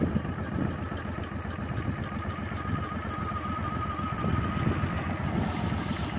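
An 18 hp V-twin minibike engine idles steadily just after a cold start, a continuous near low rumble with an even, slightly uneven-firing pulse throughout, no talking.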